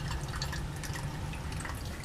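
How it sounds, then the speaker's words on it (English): Water runs down a lab sink while sodium hydroxide solution is rinsed away, giving a steady splashing trickle with small drip-like spatters, close and continuous, with no voices. "Sodium hydroxide is basically Drano, so I'm just going to let that go down the sink with lots of water."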